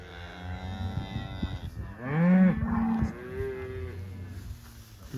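Cattle moo loudly and close during a cow/calf pair move on pasture in Coronation, Alberta, with several overlapping, drawn-out lowing calls and more bellows from the herd around them.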